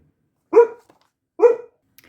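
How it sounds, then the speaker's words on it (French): A small dog barks twice, sharp and close, with a short pause between the yaps in an otherwise quiet room. "Désolée pour les aboiements de ma petite fille."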